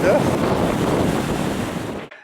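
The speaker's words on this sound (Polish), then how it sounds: "taki wiatr na plaży był" Strong wind buffets the microphone in a loud, continuous rush, with surf roaring underneath, cutting off abruptly at the end.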